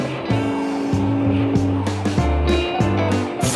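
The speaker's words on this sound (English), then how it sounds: "The wheels started to slip, the car stopped, and slipped back." Cartoon car with its wheels slipping as it slides backward down a hill, a busy run of revving, skidding tones over steady music-like sound, loud and continuous for a few seconds.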